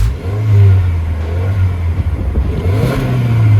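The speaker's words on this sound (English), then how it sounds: "Says he's going to give it a rev." A 2023 Subaru WRX TS engine is revved up and released twice, the exhaust note rising and falling loud and close with no talking over it.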